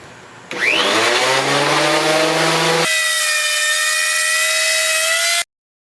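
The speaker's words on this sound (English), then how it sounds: "The planer will get all my boards the exact same thickness." A thickness planer runs outdoors, planing spalted oak boards: a loud whining motor spins up, then settles into a sustained high, harmonic-rich scream as a board feeds through, cutting off abruptly at the end.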